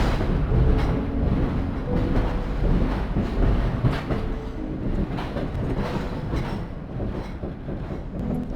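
A train rolls steadily along the rails with continuous rumbling and rhythmic clickety-clack, loud and close, with no talk over it.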